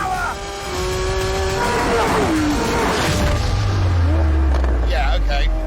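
A Lamborghini Sian hybrid supercar with supercapacitor electrification drives at speed, its loud engine note swelling and shifting in pitch as it passes close by, with a deep low rumble building toward the end.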